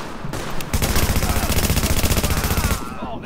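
Rapid automatic gunfire in a shooter video game rattles out in a dense, loud burst lasting a few seconds, with close crackling shots and no speech over it.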